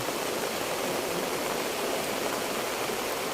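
Rain falling outdoors in a landscape with plants: a steady, dense hiss of rainfall, constant and fairly loud, with no talking.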